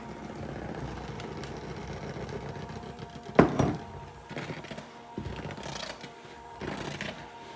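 Electric mixer running on low through pumpkin spice cookie dough, a soft continuous motor whir with a muffled thunk partway through and uneven churning.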